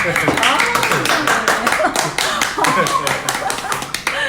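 Clapping during a restaurant-business interview, sharp hand claps in quick succession, close and loud, mixed with laughter and overlapping voices.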